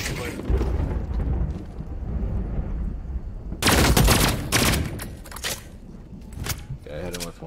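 A loud, sustained burst of gunfire in The Cycle: Frontier, starting abruptly partway through and trailing into scattered shots. Heavy game noise runs before it, and a voice talks nearby.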